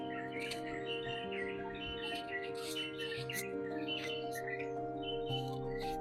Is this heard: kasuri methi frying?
no